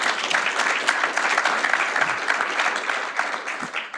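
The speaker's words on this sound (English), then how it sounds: "Let's give them all a round of applause" A transit conference audience claps for the speakers, a brief burst of steady, dense applause that eases slightly toward the close.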